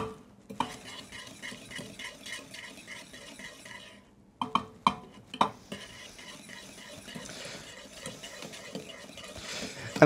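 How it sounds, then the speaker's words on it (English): Whisk stirring cheese into a béchamel sauce in a pot, a steady scraping, clinking rhythm against the pan with a few sharper metallic taps midway, close and fairly quiet. "I'm going to go ahead and whisk my cheese into my bechamel sauce"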